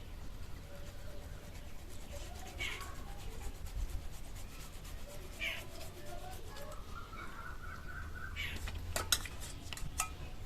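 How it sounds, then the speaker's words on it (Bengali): Palm seed kernels are scraped against a metal grater at close range, giving repeated rough rasping strokes with short pauses between them and no talking. "গ্রেটার দিয়ে গ্রেট করে নেব।"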